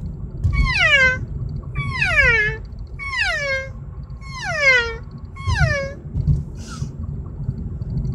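Five drawn-out, wavering bleating calls from a mylar-reed cow call, reedy and nasal, spaced evenly about a second apart, over a low rumbling background, followed by a faint short squeak.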